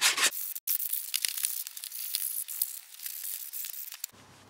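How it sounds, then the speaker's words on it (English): Hand sanding a Ford Fiesta cover with 500 grit sandpaper: soft, continuous rasping and rubbing strokes that stay close and fairly steady, with a few sharper scuffs and a brief pause near the start. "Next step is I've got some 500 grit sandpaper. I'm just going to go all around it"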